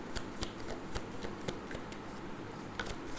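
Tarot cards are shuffled and drawn up close, a quiet run of crisp riffling snaps and soft slides with sharp flicks at irregular intervals.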